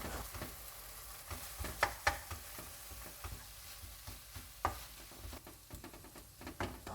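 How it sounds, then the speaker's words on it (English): Rice being stir-fried on low heat in a pan for kimchi fried rice, a steady soft sizzle and frying hiss with scattered light scraping and tossing clicks from stirring, close and moderately quiet. "Reduce the heat to low and add the rice and continue stir frying."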